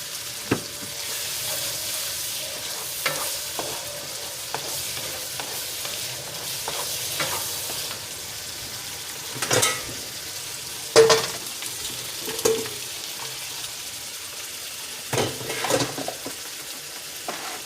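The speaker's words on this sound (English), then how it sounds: "Then we're gonna add some soy sauce." Soy sauce hitting a hot frying pan while cooking black pepper salmon, giving a continuous sizzle with occasional louder spatters and utensil clicks near the pan.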